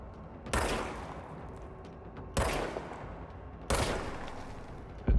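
Three loud, sharp gunshots ring out at spaced intervals in the action game Control, each with a short echoing tail, and a fourth shot begins at the very end.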